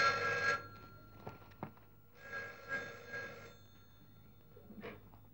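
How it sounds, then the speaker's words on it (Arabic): A telephone bell rings in two bursts, a long trill at the start and another about two seconds later. It is fairly close, with a few soft knocks and rustles between the rings and no voices. "تليفون عشان حضرتك."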